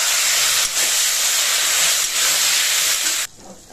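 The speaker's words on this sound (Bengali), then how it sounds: "ফুলকপিগুলো একটু লাল লাল করে ভেজে নেব।" Cauliflower frying in oil in a wok gives a loud, continuous close hiss with brief dips, cutting off abruptly near the end; no speech.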